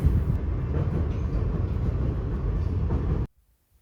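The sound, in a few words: riding on a train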